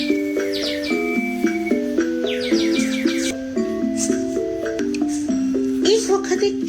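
Cartoon sparrow chirps from a children's story about a brave sparrow: quick bright tweets in bursts over a steady melodic music bed, fairly loud, with a narrator's voice present.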